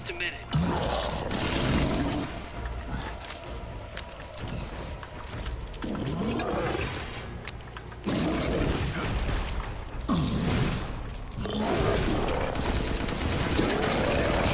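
Gunfire in Resident Evil 8 (Village), bursts of shots and roaring creature noise in repeated loud surges separated by quieter gaps, with voices talking throughout.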